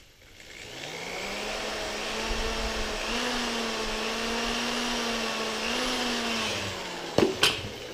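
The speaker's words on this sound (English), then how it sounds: "Drill a hole here and let that cell drain out" Power drill boring a hole into a lead-acid battery cell, a steady motor whine that spins up, holds with slight pitch wobbles for several seconds, then stops, followed by a couple of sharp knocks.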